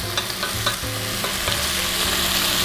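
Onion, leek and carrot sizzle in a pan while being stirred, a steady bright frying hiss punctuated by soft scraping strokes of the utensil at an irregular pace.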